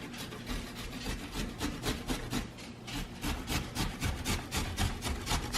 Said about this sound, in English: Throw it into the grater.